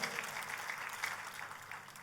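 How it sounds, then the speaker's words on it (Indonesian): Congregation clapping during a church sermon, a soft, steady patter of many hands heard from a distance, fairly faint and continuous. "Tepuk tangannya, boleh yang meriah buat Tuhan kita."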